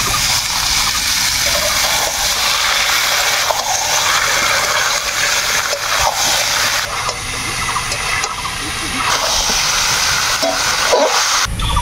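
Kuchia eel fish goes into hot spiced oil with a loud, continuous hiss and crackle of frying that stays dense and close throughout, with a brief clatter near the end.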